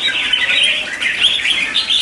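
A wild-caught red-whiskered bulbul from the Bản Dốc waterfall area in Cao Bằng sings loudly and close, a continuous run of bright, warbling chirps without pause or voices.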